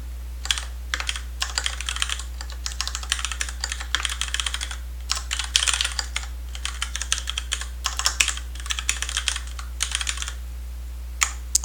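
A name being typed on a computer keyboard: bursts of quick, crisp key clicks with short pauses between words, close and clear over a steady low hum, no talk.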